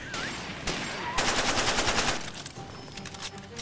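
Heavy explosive blasts from mortar shells land in the Far Cry 2 video game: a sharp burst followed by a rapid, rattling run of impacts, then scattered cracks, all loud and close with no voices.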